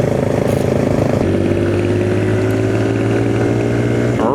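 A Kawasaki KLX 140 dirt bike engine of about 12 horsepower revs steadily and close by, its tone holding a sustained drone with a slight rise near the end.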